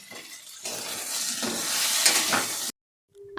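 Food fries in a steel wok over a high flame and is stirred, a loud, close hiss and sizzle with scraping that builds and then cuts off abruptly, followed by a short faint tone.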